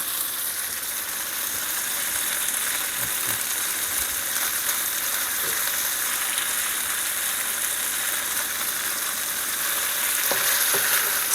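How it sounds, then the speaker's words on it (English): Beef searing in a hot pan gives a steady, close sizzle and crackle for the whole stretch, with occasional light scrapes of stirring and no voices. "I want it to get a good sear on it before I add the liquid."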